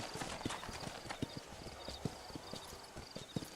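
Horses trotting in Red Dead Redemption, quick close hoofbeats in an uneven rhythm, low and soft with a faint background ambience.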